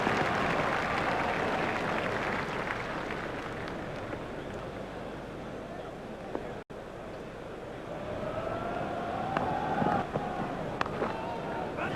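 Crowd at an Australia versus England cricket match cheering and applauding after a boundary shot, a broad sustained roar of many voices that stays loud throughout, with a commentator talking over it.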